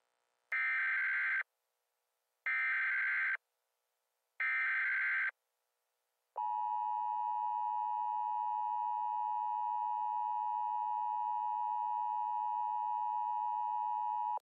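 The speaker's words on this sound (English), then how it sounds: "Any use of the EAS tones to attempt to incite panic is a felony" Emergency Alert System attention signal: three sharp, loud data bursts with gaps between, then a steady, piercing two-tone alarm that holds continuously for about eight seconds with no voices.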